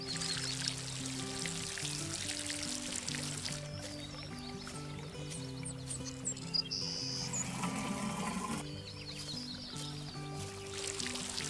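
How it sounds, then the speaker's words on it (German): Garden scene in the Garten Simulator video game, with water pouring and splashing steadily while birds chirp faintly in the background over a soft, looping music bed. "hier zwitschern die Vögel. Man hört nur das Wasser platschen."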